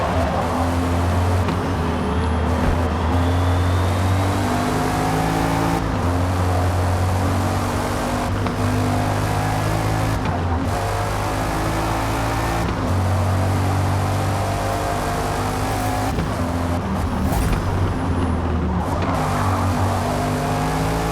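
Racing car engine and turbo in Forza Motorsport, with the engine droning steadily and dipping repeatedly as the car decelerates, turbo spooling down faintly between bursts of revving, continuous and loud throughout with no voices.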